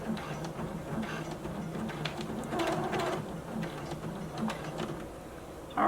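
Sewing machine stitching close to the edge along the end of a fabric clutch bag, a steady low mechanical whir with faint rhythmic clatter, fairly quiet and continuous, a soft knock at the very end.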